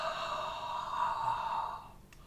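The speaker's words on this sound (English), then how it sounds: "This time we're going to breathe in and we're going to yawn it out." One person breathes in and lets out a long voiced yawn, close and loud at first, then trailing off after about two seconds, with no talking.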